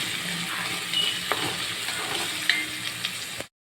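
Cucumber pieces sautéing with cumin and green chilli in a pan for sabudana khichdi, giving a steady close sizzle with occasional stirring taps, without any talk.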